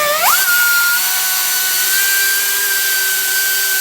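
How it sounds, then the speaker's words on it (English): A power drill spins up with a rising whine and holds a steady high-pitched tone as it reams out the centre of a metal washer for a wheel bearing, loud and close with no talk. "I got to ream it out just a little bit"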